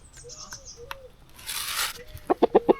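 Chickens in a hen house give a quick run of rhythmic clucks near the end, after scattered soft calls and a brief burst of wing flapping.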